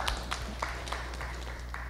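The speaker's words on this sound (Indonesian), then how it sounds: "Tepuk tangan untuk yang keempat" Audience at a fiqh podcast recording claps for the fourth speaker, a faint, short burst of scattered hand claps over a low steady hum, without talk.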